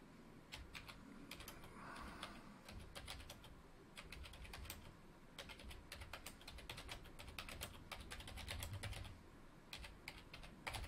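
Typing on a computer keyboard, quiet rapid bursts of clicky keystrokes in irregular runs with short pauses, close and soft, no talking.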